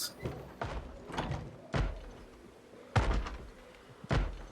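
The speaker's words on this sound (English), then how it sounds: "I hear one banging on some sort of door somewhere inside" A zombie in the video game Project Zomboid bangs on a door, with about five heavy thuds coming at irregular intervals, fairly loud and alone without talk.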